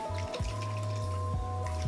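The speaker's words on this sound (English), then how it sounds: "I like to fill the containers up with some water to make sure I get all of it" Water pours in a thin, steady stream into a small Beech-Nut baby food jar, a soft trickle with a faint rising tone and small gurgles, quiet and close.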